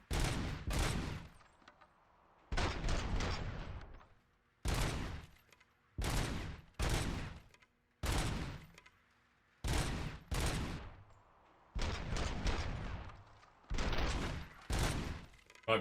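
Bursts of rapid automatic gunfire ring out from a weapon in Robocop: Rogue City, loud short volleys repeating at intervals with brief silences between them.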